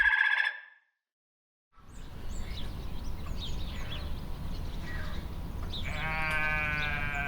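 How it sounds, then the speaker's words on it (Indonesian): A brief chime opens, then silence gives way to outdoor farm ambience before a sheep lets out a single wavering bleat near the end, fairly close. "Ya, ini adalah domba."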